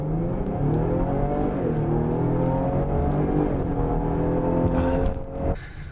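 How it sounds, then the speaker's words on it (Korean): A Lincoln Aviator luxury SUV accelerates hard toward 100 km/h in sport mode, its engine note climbing steadily through rising harmonics for several seconds, loud and close inside the cabin, then easing off sharply near the end. "링컨 에비에이터 시속 100km 가속 테스트 진행해 봤습니다"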